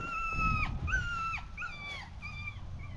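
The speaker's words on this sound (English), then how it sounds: "Hey, the dog has a problem." A dog gives several drawn-out whimpers and whines with falling pitch, some low growling underneath, fairly close and moderately loud over a rough low background.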